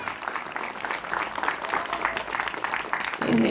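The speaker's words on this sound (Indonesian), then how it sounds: "Tepuk tangan untuk Babul Ulum ini" Steady crowd applause at an Islamic boarding school gathering, fairly close and even in level, with a voice cutting in briefly at the very end.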